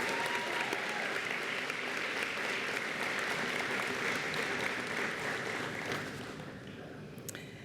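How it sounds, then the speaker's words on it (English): Graduates at a nursing pinning ceremony give a sustained round of applause, many hands clapping densely and evenly, then thinning and fading near the end. "Would the graduates please show their appreciation by a round of applause for your"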